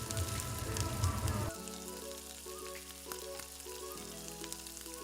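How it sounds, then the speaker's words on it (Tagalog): Onion and chicken sauté in a pan for chicken caldereta, a close, steady sizzle and crackle of frying that starts loud and settles lower partway through, with no talking. "pwede na nating isaute ang ating sibuyas. Tapos, isaute na natin ang ating chicken."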